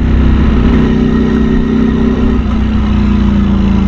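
A Ducati Streetfighter V4S motorcycle engine runs loud and close, a steady heavy rumble with strong low harmonics, holding nearly constant with only slight variation in pitch.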